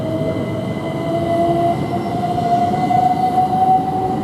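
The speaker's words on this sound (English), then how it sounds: "we've got a train moving here" A Class 377 electric passenger train bound for Ramsgate rolls steadily through Ashford International station, a continuous loud rumble with a faint high whine of wheels on rails, and no voices.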